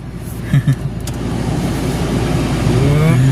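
A car accelerates close by, its engine tone climbing steadily and growing louder, with a couple of brief thumps near the start.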